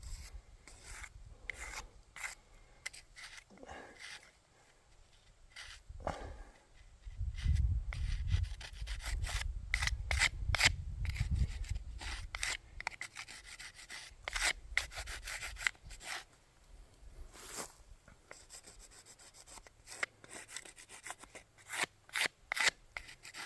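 Small plastic paint scrapers rasp and rub across a stone veteran headstone during cleaning with a biological solution, giving irregular scraping strokes, with a heavier, denser stretch in the middle and no talking.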